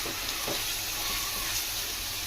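Mutton cooks in a ginger garlic paste masala with a close, steady hiss of sizzling and faint bubbling throughout.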